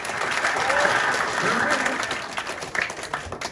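A crowd at a lively evening event with an energetic host claps loudly and continuously, a thick, sustained roar of applause with voices faintly mixed in, easing slightly toward the end.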